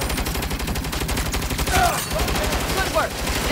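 Turret machine gun fire in the Saints Row video game, a steady rapid burst of loud repeating shots running throughout, with brief voice-like sweeps from game dialogue layered on top.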